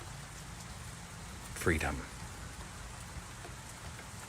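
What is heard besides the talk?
rain falling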